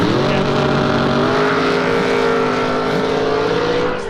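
A drag race car in an 8.50 index race rolls up to the start line for a first-round qualifier, its engine a loud, steady, close rumbling drone with a rich layered tone that holds throughout.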